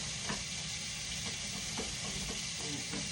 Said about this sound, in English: And I'll stir it in.